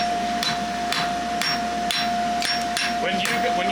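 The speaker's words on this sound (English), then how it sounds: "When you draw the branch, are you trying to come in with your hammer to taper it too?" A blacksmith's hammer strikes hot steel while a horseshoe is forged, sharp ringing blows landing in a steady rhythm about twice a second, close and loud, with a constant tone ringing underneath.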